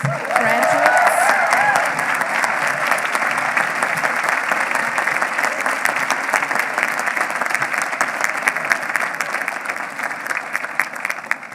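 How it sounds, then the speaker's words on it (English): Sustained applause from a commencement audience at a 2018 law school graduation ceremony, steady dense clapping filling the whole stretch at close, even loudness, with a faint voice briefly audible near the start. "And applause for those graduates."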